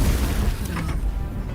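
Booming Blade strikes in Baldur's Gate 3 as a dense, heavy boom with a rough crackling body that fills the whole short moment at steady loudness.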